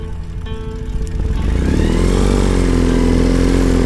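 A Ural motorcycle engine starts up and pulls away, a loud close rumble that builds over the first second and a half into a steady heavy drone on a high mountain road.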